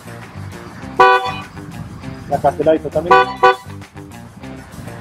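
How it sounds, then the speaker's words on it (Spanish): A Ferrari California's horn honks in several short bursts, loud and close, with someone talking over and between the blasts. "no tenemos el claxon, el pito, como le quieran llamar, sino lo tenemos acá"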